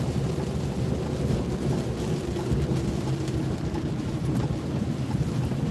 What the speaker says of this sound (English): It looks the same or Niels, the rain looks the same everywhere.